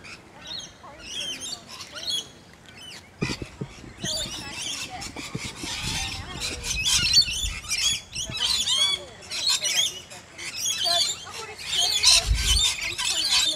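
About 3,000 lorikeets arrive as a large flock, filling the air with dense, overlapping squawks and shrill chirps that run continuously and build in loudness, with a few low thumps underneath.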